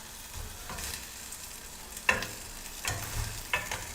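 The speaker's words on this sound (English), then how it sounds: "Our blueberries we're going to kind of smash with either a spoon or a potato masher." Blueberries are pressed and mashed with a spoon in a heated pan, giving soft squelching stirs over a low sizzle. Two sharp metallic clinks of the spoon against the pan stand out.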